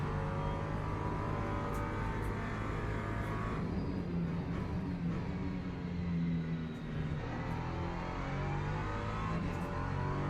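GT race cars battling on the circuit at Bahrain, engines roaring and revving continuously as several cars pass at close range, loud and sustained with shifting pitch.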